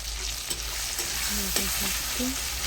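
Spices frying with salt and turmeric powder in a hot pan, a dense continuous sizzle with spoon stirring and a few clinks over roughly three seconds, and no voices.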